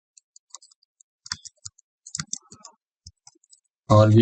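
Fingers tap out a Google search on a computer keyboard in sparse, irregular clicks and quick bursts, close and crisp, before a voice begins speaking at the very end.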